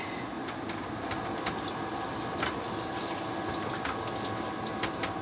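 Water running out of the air conditioner discharge on a boat, a steady wash of trickling flow heard alone, with faint clicks and splashes over a low continuous hum.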